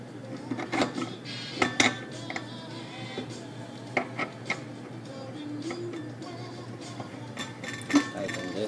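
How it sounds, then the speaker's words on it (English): Metal clinks and clicks as a filter is fitted into a vintage Italian-made Bellman CX-25 espresso machine, with several sharp knocks, mostly around the first two seconds and near the eighth, over a steady background hum. "we're going to put in the filter"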